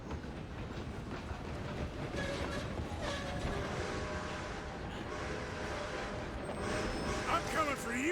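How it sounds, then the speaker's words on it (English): A train rolls steadily along the tracks in Red Dead Redemption 2, with continuous rumbling and clattering wheels beneath talk, the sound swelling slightly louder toward the end. "I'm gonna ride ahead and stop the train"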